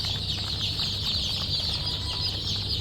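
A crowd of newly hatched naked neck chicks chirps continuously, with many high peeps overlapping into a dense, steady chorus at close range.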